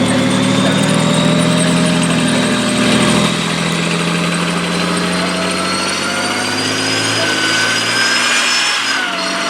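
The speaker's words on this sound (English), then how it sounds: "This is our famous Challenger 2 Megatron." Challenger 2 main battle tank engine idling at a tank show demonstration, a loud, steady heavy drone with whining tones and a slight shift in pitch toward the end.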